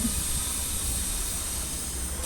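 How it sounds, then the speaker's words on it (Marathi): Besan mixture sautéing in a nonstick pan over a low gas flame, a continuous, fairly loud hiss with a low rumble and no breaks. "त्याला प्रेस करून करून छान कमी गॅसवर परतवून घेतो आहे"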